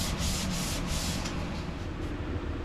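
Steady broadband scraping of sandpaper worked over a camper's painted surface, loud and continuous with a few rhythmic strokes early on, no voices.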